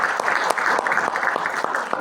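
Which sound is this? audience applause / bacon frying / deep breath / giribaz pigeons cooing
audience applause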